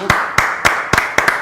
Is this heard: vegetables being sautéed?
no